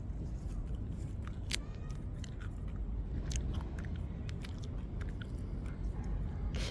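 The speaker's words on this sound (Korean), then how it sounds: "제가 맛을 지금 조금 어린 순을 뜯어서 한번 먹어보겠습니다" Young plant shoots are plucked and chewed up close outdoors, giving soft crunchy bites and mouth sounds over a steady low background rumble, with scattered small crisp clicks.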